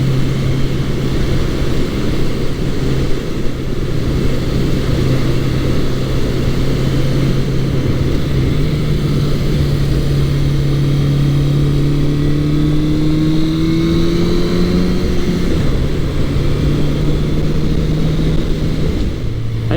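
A Suzuki GS650G motorcycle engine drones steadily while riding, with engine pitch rising and shifting through gears under loud, continuous wind rush and road noise.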